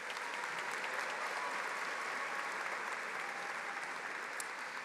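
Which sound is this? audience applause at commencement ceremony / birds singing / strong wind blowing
audience applause at commencement ceremony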